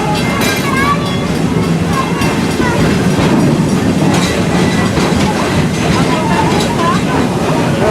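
A park train at Busch Gardens rolls along with a steady rumble and clattering wheels, close and continuous, while someone narrates over a loudspeaker throughout.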